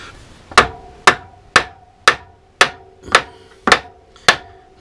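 A hammer strikes a homemade wooden spanner fitted on a car wheel nut, eight sharp knocks in an even rhythm about half a second apart, loud and close, each with a short woody ring.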